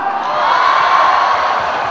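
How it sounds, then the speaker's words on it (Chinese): Live audience at the 2008 CCTV MTV music awards ceremony cheering and whooping as a sustained, loud crowd roar with no distinct claps standing out. "用你们的掌声还有欢呼声告诉我们"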